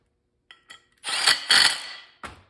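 Several tightening clicks and metallic turning sounds come from Allen bolts being snugged up on a Polar secondary clutch for a junior dragster, close and fairly quiet, separated by short pauses.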